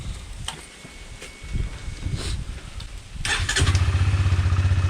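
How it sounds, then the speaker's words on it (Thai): A ten-year-old Honda CBR150i motorcycle engine cranks and catches, then settles into a steady, pulsing idle, close and fairly loud, with no talking. "เดี๋ยวผม สตาร์ทให้ฟังเสียงแล้วกัน"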